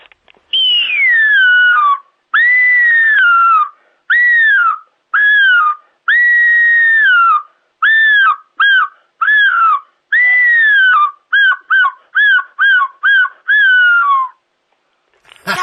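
A human voice whistles a long series of rising-and-falling calls imitating a bird's mating call, the notes getting shorter and quicker toward the end.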